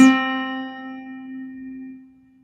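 A single sustained piano note, middle C (C4), rings out after a clear attack, its tone decaying smoothly over about two seconds.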